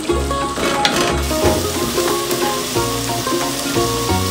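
Eggplant mixture sizzling in a pan as it is stirred: a loud, close, steady frying hiss with repeated scrapes of a utensil and low thumps.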